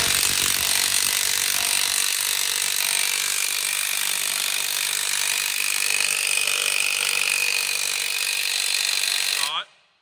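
Continuous close ratcheting and grinding as a bearing press tool is tightened onto a disc of a Vaderstad seed drill during an overhaul, a steady rasping texture that stops abruptly near the end.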